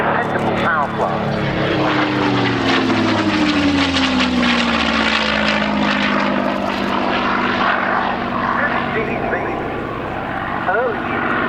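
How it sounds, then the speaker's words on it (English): An Allison V-1710-engined Mustang flying past at the RAF Cosford Air Show, its loud propeller-engine roar sweeping down in pitch as it passes close by, with a commentator's voice running underneath. "This aircraft, as I say, is the American Allison V-1710 engine, a very good, dependable power plant."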